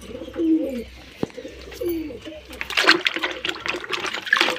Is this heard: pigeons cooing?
yes